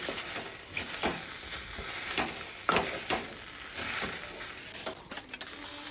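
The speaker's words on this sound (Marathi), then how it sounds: "आता हे आपण कढईमध्ये टाकून घेऊया आणि याला थोडंसं तेल टाकून आपण फ्राय करून घेऊया" Sliced ivy gourd frying in a little oil in a wok, a steady soft sizzle with scattered stirring clatters and scrapes throughout.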